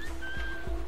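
A character whistles in the video game Assassin's Creed 3, a faint, thin sustained tone held briefly over quiet low game ambience.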